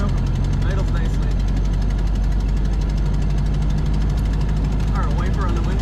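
A 1930 Ford Model A Deluxe Sedan engine idles steadily and loudly up close, an even low rumbling chug that holds without a break, with a voice speaking over it.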